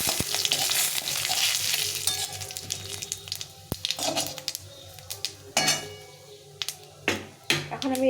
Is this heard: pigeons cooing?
no